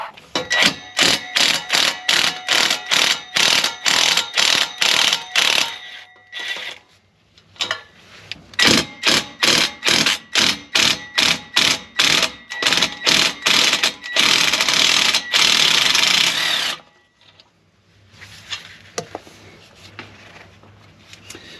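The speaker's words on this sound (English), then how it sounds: "I'm going to unbolt these 2 first, get it loose and separated from the front half of the exhaust" Rapid rhythmic clicking of a ratchet wrench unbolting exhaust nuts under a Ford Bronco, in repeated bursts, pausing briefly between runs, close and loud, with occasional metallic clanks.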